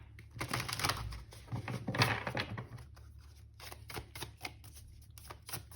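Tarot cards being shuffled by hand, a quick run of crisp papery riffles and taps, close and fairly quiet, with a denser burst in the first few seconds and lighter scattered flicks after.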